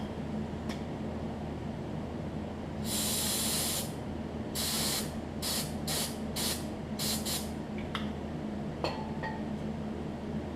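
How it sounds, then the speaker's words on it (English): Carb cleaner sprays onto a Troy Bilt Pony riding mower part in a long hiss followed by several short bursts, with faint clinks over a steady background hum. "Probably gonna have to clean it off real good with carb cleaner."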